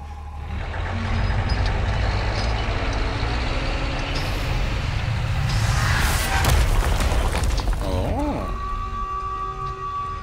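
An alarm tone sounds during a Resident Evil 4 game session, a rising and falling siren-like wail emerging late over dense rumbling game noise and loud action effects.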